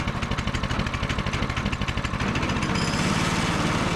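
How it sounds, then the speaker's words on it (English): A small gasoline engine runs on choke right after a pull start for a cabin pump house, chugging in a fast, uneven pulse that then settles into a steadier, louder drone, close up. "You're going to want to choke it first, and then you pull the handle. And then you let it run just for a little bit on choke."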